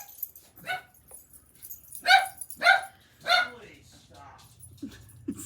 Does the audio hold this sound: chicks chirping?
no